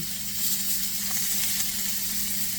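Rib eye steaks frying in butter give a loud, steady sizzle and hiss, close and continuous, with no voice over it.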